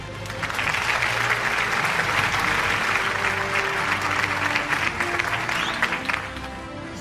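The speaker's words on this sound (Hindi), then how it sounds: "भरपूर तालियां ख़ातिन और हज़रात।" Large crowd at a Pakistani city news network annual award show clapping together, a full, sustained roar of applause that stays level for the whole stretch with faint hum underneath.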